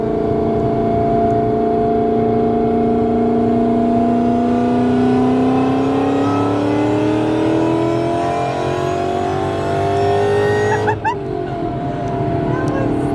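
A Powerlab Performance-built car making over 800 rear-wheel horsepower accelerates hard, its engine note climbing in a loud, sustained rising drone before a sharp shift break near the end.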